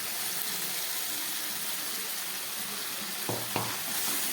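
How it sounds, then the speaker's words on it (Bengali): Spice-rinse water tipped into frying spices for a Bengali egg-potato curry, a steady sizzle and bubbling in the pan, then a couple of short splashy pours near the end. "এবার আমি এর মধ্যে দিয়ে দিচ্ছি মশলা ধোয়া জলটা"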